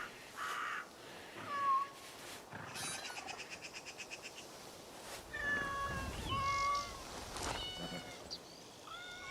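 A cat meows several times in the game Assassin's Creed Shadows, with faint game ambience and occasional bird-like calls between the mews, at moderate to quiet volume.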